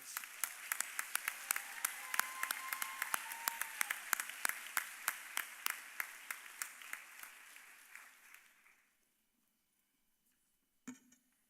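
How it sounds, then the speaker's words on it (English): Steady applause from a school senior awards night audience honoring top graduates, with distinct sharp claps over a dense wash, lasting about eight seconds before fading to silence and a brief thump. "please give them a round of applause"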